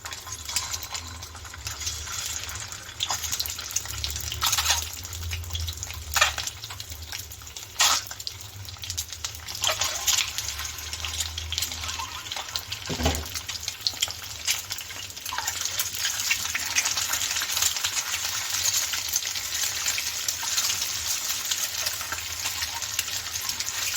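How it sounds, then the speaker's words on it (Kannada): Cut boiled eggs roasting in hot oil in a pan over a low flame: soft steady sizzle throughout, with occasional brief taps and clinks of a utensil against the pan. "ಸ್ಟವ್ನ ಲೋ ಫ್ಲೇಮಲ್ಲಿ ಇಟ್ಕೊಂಡು ಮೊಟ್ಟೆನ ರೋಸ್ಟ್ ಮಾಡ್ಕೊಳ್ಳಿ"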